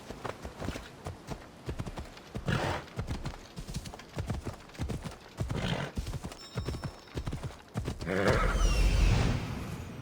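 Horse hooves gallop in a steady clip-clop rhythm in the Assassin's Creed Odyssey game, with a neigh near the end over a louder rush of sound.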